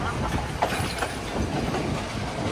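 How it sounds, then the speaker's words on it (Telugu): A passenger train on the Colombo to Kandy railway in Sri Lanka rolls along with a steady, loud rumbling clatter of wheels on track, heard close from inside the carriage. "ఇప్పటి వరకు ట్రైన్ స్ట్రైట్గా వెళ్ళింది, ముందుకెళ్ళింది."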